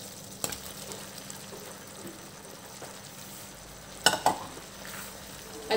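Idli pieces tossed with spices, black pepper and Ajinomoto in a pan for Chinese idli make a faint, low sizzle, with a few soft spatula taps and one brief clatter near the end.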